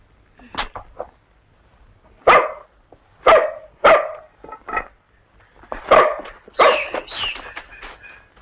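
A hunting dog barks in a 1982 film of the Sangkuriang legend, giving several sharp, loud barks in irregular bursts, some closely clustered, with brief whines between.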